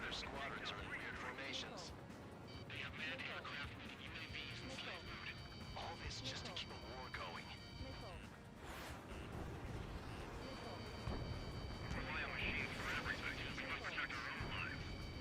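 Missiles and explosions in the jet combat video game Ace Combat 7, a continuous roar of rumbling blasts and launches with engine noise, under talk.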